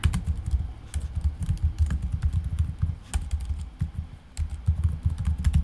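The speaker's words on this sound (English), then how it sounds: "Here, I'll just type it out right now." Rapid typing on a computer keyboard, close and clear, with keystrokes clattering in quick uneven bursts and a few short pauses.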